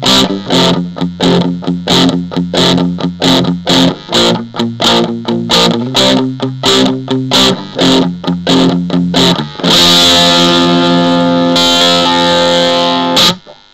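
Electric guitar through an MXR Custom Badass 78 Distortion pedal plays choppy, rhythmic heavily distorted chords, then settles into long sustained, fuzzy notes near the end; loud and up close with no talking.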